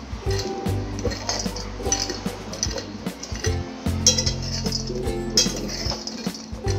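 Dried dates stirred in a heavy kadhai over the gas flame, giving a continuous jumble of clinks, scrapes and rattles of the fruit against the metal pan, with a low steady hum underneath and no talking.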